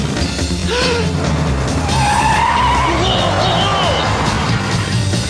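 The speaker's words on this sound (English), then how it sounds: "Hit the brakes!" A cartoon vehicle brakes hard and skids, with loud wavering tire squeals over a dense rumbling engine and action noise, continuous and close throughout.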